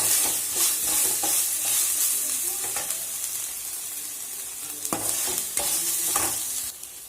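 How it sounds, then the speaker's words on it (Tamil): Onions sautéing in a pan for pasta, a soft steady sizzle with repeated scraping strokes as they are stirred, several sharper clicks of the utensil against the pan near the end. "ஸோ இது வெங்காயம் நல்லா வதங்கட்டும்."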